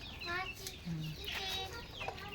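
Chickens cluck softly nearby in short, uneven bursts, including a large chicken feeding in a backyard vegetable garden, with a few higher squawks and faint background murmur.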